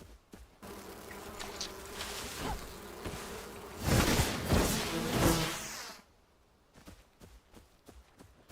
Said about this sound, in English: And the bees will attack too.